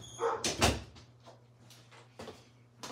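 A door is pushed shut indoors to keep dogs out, with a couple of soft thuds and a latch click followed by faint shuffling and quieter knocks.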